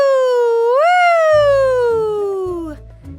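In a children's cartoon story, a voice imitates a fire engine siren with one wail that rises and then falls slowly, with soft low music underneath.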